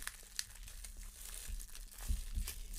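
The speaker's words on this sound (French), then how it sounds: "je vais déballer devant vous ce que ça donne. Comme ça, vous allez voir ce qu'il y a dans la boîte." Packaging being unwrapped from a DOSS SoundBox speaker, close crinkling and rustling with a few sharper crackles and soft thumps of handling.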